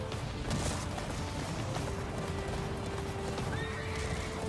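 A horse gallops with rapid clip-clop hoofbeats and whinnies, steady and moderately loud against a dense noisy background, no talking.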